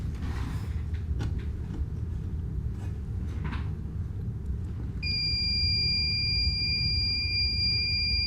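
A steady electronic tamper buzzer on a card reader starts partway through and holds a constant high tone. Before it begins there are soft creaks and handling noises over a low room hum.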